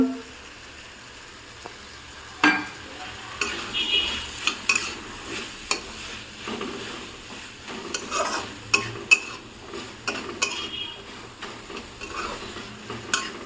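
Chopped capsicum is stirred and fried in a pan with tomato for pav bhaji, giving a steady soft sizzle with scattered scraping clicks of a spatula against the pan, no talking.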